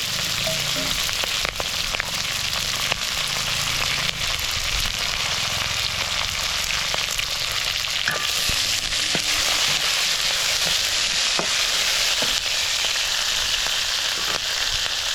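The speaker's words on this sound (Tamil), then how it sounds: "இதை மட்டும் தான் பெருஞ்சீரகம் பொரிக்கட்டும் அதோடு சேர்த்து வெட்டி வச்சிருக்கிற வெங்காயத்தை சேர்த்துக்கொள்வேன்" Fennel seeds and chopped onion fry in a pan with a constant, dense crackling sizzle that stays loud and even throughout, with occasional sharper pops and stirring clicks.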